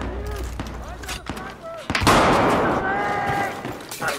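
Shotgun fire rings out in the Battlefield 4 video game, a few sharp blasts and a heavier burst of gunfire amid game effects, with a voice talking over parts of it.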